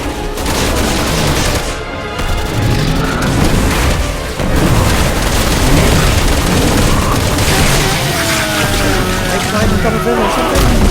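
Gunfire aimed at a beast in Resident Evil 6 comes as a loud, continuous barrage of shots and heavy booms that packs the whole passage with dense noise, leaving almost no quiet gaps.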